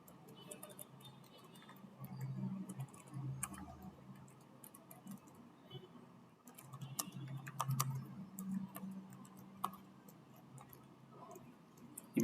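Computer keyboard keys tapped while HTML code is written, a light irregular patter of clicks running through the clip over a low background hum, with occasional louder strokes.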